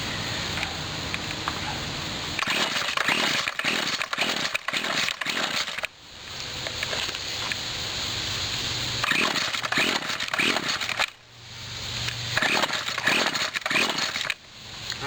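A 1997 Husqvarna chainsaw engine runs roughly and revs unevenly after repair, sputtering and nearly dying twice before catching again, loud and close throughout.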